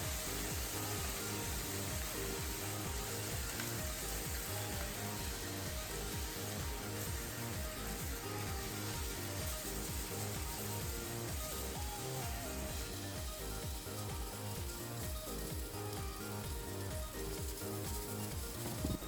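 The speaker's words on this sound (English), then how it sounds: "After frying for 30 seconds, add pork, seafood mix, and noodles." Steady, loud sizzling of pork, seafood and noodles frying in a hot pan for salt yakisoba, with continuous crackle and hiss throughout and no voices.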